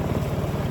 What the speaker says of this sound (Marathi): तुम्हाला दाखवतो इंजिन लावलेलं होळीला आणि प्रथमेश इकडे चालवतोय बघा